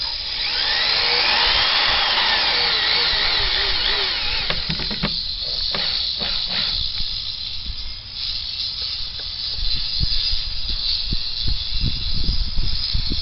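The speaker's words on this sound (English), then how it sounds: "We're going to go ahead and put in the screws for the boards" A power drill drives screws into wooden swing set boards, opening with a sustained high whine, then shorter bursts and clicks as screws bite into the wood, loud and close.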